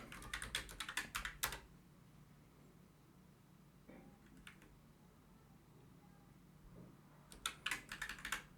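Computer keyboard typing of TypeScript code: close, crisp rapid key bursts at the start and end with a few isolated taps between, over quiet room noise and no speech.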